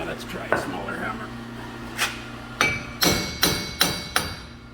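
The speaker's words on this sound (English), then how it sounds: "Now let's try a smaller hammer." A smaller hammer striking the axle shaft during front wheel bearing removal on a 2017 Ram 1500 4x4: sharp metallic bangs, one early and then a quickening run of six or so ringing blows, loud and close.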